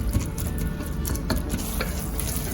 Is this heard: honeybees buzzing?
no